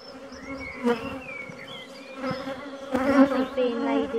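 Honeybees buzz around a hive frame in a close, continuous droning hum, with single bees whining past in rising and falling tones and occasional soft knocks of handling.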